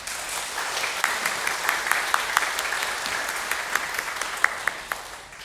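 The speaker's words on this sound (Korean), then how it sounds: "갈릴리를 위해서 큰 박수 해주시기 바랍니다" A church congregation at a Sunday afternoon service gives a big round of applause for the Galilee praise team, a steady patter of many hands with a few sharp, nearer claps popping out, heard alone without talking.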